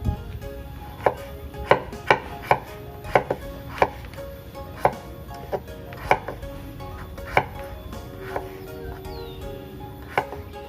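A knife chops through papaya on a board for an East Nusa Tenggara rumpu rampe vegetable dish, with crisp, close strikes coming in an uneven rhythm, some quick pairs and then slower single cuts.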